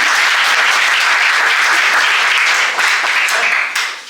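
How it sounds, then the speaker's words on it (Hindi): An audience gives loud, dense, sustained applause at a thank-you moment during a gathering, steady for about three seconds before tapering off. "उनका धन्यवाद आप ही लोग करें तालियों के साथ"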